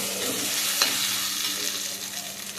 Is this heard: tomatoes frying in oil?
yes